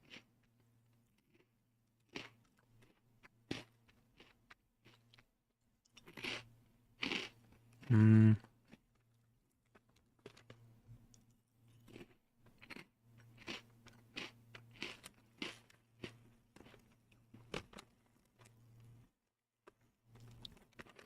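Close, crisp crunching of Goldfish cheese crackers being chewed in scattered bursts, one loud crunch standing out, over a faint low hum.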